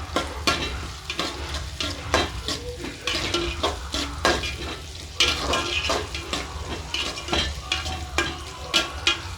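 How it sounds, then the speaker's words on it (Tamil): Onions fry in a pan while a metal spoon stirs them, giving rhythmic scrapes and clanks over a constant close sizzle and a low burner hum, with no speech. "நல்லா செவந்து நல்லா வதங்கின வர வரைக்கும் கிண்டி விடுங்க."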